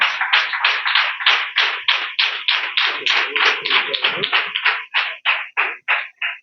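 Audience clapping in unison at a Sunday school church gathering, a steady rhythmic run of about twenty loud, close claps that slows and spaces out near the end, with no talk over it.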